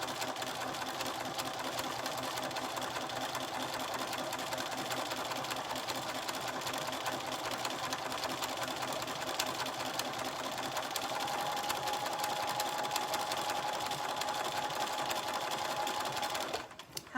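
A sewing machine runs steadily as fabric is fed through it, a continuous whirring stitch that holds an even pace and grows slightly louder near the end before stopping abruptly.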